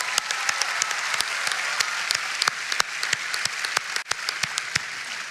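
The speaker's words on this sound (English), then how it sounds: "let's clap for that." Steady audience applause at a university homecoming event at NC State, a continuous wash of many hands with a few sharp nearby claps standing out, sustained evenly throughout.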